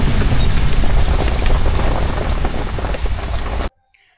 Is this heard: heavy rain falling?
yes